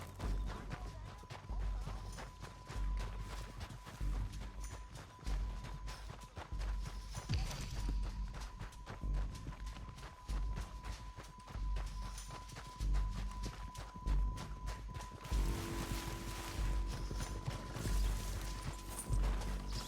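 Horses galloping in Red Dead Redemption 2, a rapid irregular drumming of hooves with thuds and clattering crashes, fairly faint and continuous under a steady tone, with activity swelling toward the end.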